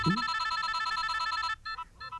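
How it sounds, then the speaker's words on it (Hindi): A telephone bell rings in a rapid, buzzing trill, then stops and sounds in shorter bursts, close and clear. "उसी का फोन आ रहा है"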